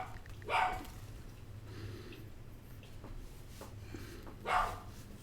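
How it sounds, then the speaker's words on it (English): A dog lets out two short, fairly faint barks spaced a few seconds apart over a low steady background hum. "woof, woof, indeed. Did you see that dog?"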